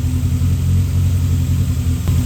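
A car engine idles steadily close by, a low continuous rumble with no revving.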